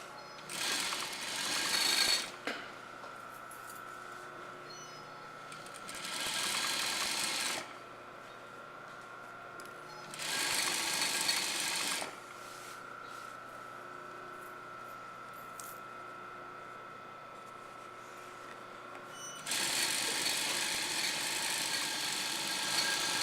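A sewing machine stitches a blouse seam in three or four steady bursts of running, pausing between runs as the fabric is pivoted, close and moderately loud with no voices.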